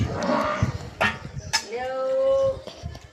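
A dog barks and whimpers briefly near the start and middle, while a person talks over most of the clip on a windy day.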